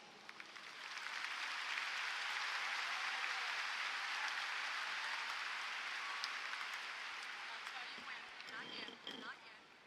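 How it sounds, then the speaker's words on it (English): Sustained applause from an audience at a high school commencement ceremony, steady and fairly distant, building at the start and tapering slightly near the end. "Please join me in applauding our special visitors as they exit."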